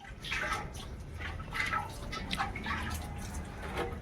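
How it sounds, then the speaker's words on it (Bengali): Tap water runs and splashes as hands and feet are washed, a steady close wash with uneven drips and gushes and no talking. "চললাম হাত পা ধুয়ে নি"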